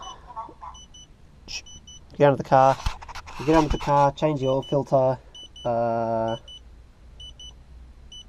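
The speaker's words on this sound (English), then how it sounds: "Now, still beeping." A car's warning chime beeps in short, evenly spaced pairs of high tones during an oil change, a quiet repeating signal running under someone talking.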